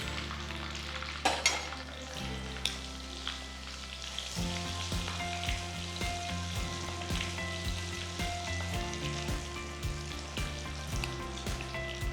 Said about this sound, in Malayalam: ഇതേപോലെ അടുത്ത ബാച്ചും ഫ്രൈ ചെയ്തെടുക്കുക.